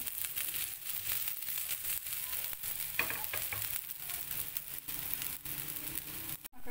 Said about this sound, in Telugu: ఇప్పుడు కొంచెం ఆయిల్ వేసుకుందాం, మొత్తం సెట్ అవుతుంది.